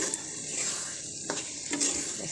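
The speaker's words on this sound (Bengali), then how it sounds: "দেখেন আমার ছোলা ভাজি কত সুন্দর হচ্ছে" Chickpeas fry in a pan and are stirred, producing a steady close sizzle broken by a few scraping strokes of a spoon against the pan, moderately quiet and without any voice.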